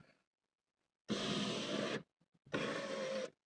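The electric window motor of a 1987 Citroën BX 16 TRS phase 2 whirs in two separate runs of about a second each, close and steady, with a short quiet gap and faint clicks between them.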